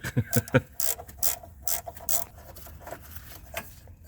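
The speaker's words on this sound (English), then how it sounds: "take these nuts and bolts off for the strut to knuckle" A ratchet works on rusty, corroded strut-to-knuckle nuts and bolts on a Ford Fiesta with a 1.6L engine, giving close, irregular clicking bursts and a few metallic knocks followed by quieter ratcheting.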